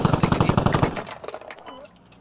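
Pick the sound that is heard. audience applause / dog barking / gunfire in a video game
gunfire in a video game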